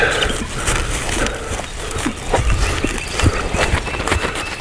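A huge Warmblood horse steps about during groundwork on hilly terrain, its hooves giving a run of dull, uneven thuds close by against a steady outdoor background.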